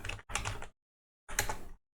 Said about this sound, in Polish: Wpisujemy kanwa i